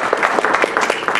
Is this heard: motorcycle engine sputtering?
no